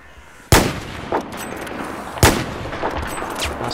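Two sharp, loud gunshots about a second and a half apart in Battlefield 4 on Xbox One, each with a ringing tail, plus fainter pops between them.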